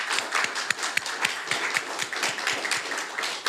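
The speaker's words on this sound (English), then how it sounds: "Please join me in giving them a round of applause for what they do." Scattered light applause for firefighters at an Orange County COVID-19 update briefing, a handful of people clapping unevenly for a few seconds, fairly quiet and distant.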